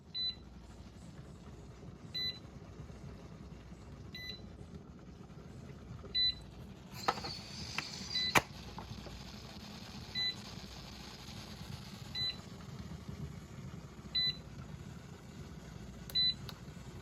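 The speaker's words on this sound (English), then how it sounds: "Pressure canner beeped, letting me know that it was done" A pressure canner's electronic beep repeats in short pairs about every two seconds over a quiet background hum, signalling it is done canning potatoes, with a brief clatter partway through.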